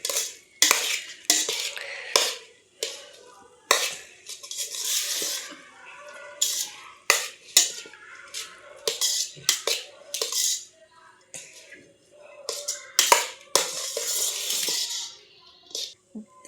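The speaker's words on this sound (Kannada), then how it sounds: "ರೈಸ್ ಹಾಕಿದರೆ ಮಿಕ್ಸ್ ಮಾಡೋಣ." A metal spatula or spoon scrapes and clinks repeatedly against a pan while tossing egg fried rice, irregular bursts of close scraping and clattering with brief pauses between strokes.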